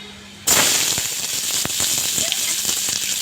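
A dried red chili hits hot oil in a Bengali kitchen, bursting into a loud, sudden sizzle that crackles and pops steadily without letting up.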